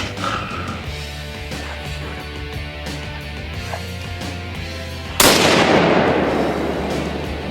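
A single loud rifle or gun shot fired while deer hunting from a stand above a logging trail, a sharp broadband blast followed by a decaying outdoor rumble after several seconds of quiet woods.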